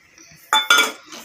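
Soaked sago pearls tipped into a steel mixer jar in a home kitchen, giving two quick clattering, clinking impacts close to the microphone with a faint rattle afterward and no talking.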